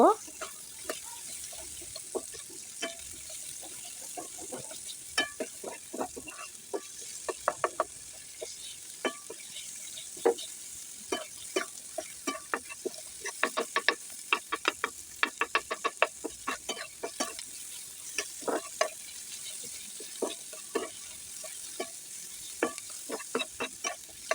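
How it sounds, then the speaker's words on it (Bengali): Chopped onion, garlic and green chilies frying in mustard oil, with a steady hiss under frequent spatula scrapes and stirring clicks that carry on throughout, close and moderately loud. "এখন আমি এর মধ্যে দিয়ে দিব পেঁয়াজ কুচি রসুন আর দিয়ে দিব কাঁচামরিচ এখন এগুলোকে আমি ভালোভাবে করে ভেজে নিব"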